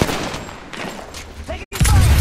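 Loud bursts of gunfire in the Apex Legends battle royale game, with overlapping shots and a sharp heavy blast near the end, mixed with game voice lines.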